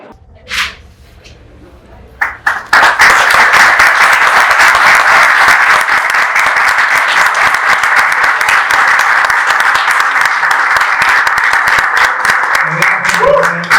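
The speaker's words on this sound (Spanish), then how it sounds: "Ahí un aplauso, por favor." An audience at a short-story reading breaks into applause: a few scattered claps at first, then a loud, steady wave of clapping that holds close and full to the end.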